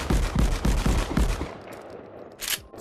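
Shotgun fire in the Contractors VR video game comes as about six rapid, loud, booming shots in quick succession, then a pause and a single fainter shot.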